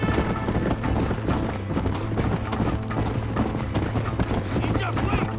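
Horse riding in Red Dead Redemption, steady hoofbeats clip-clopping at a brisk pace beneath game music, dense ambience and bits of dialogue.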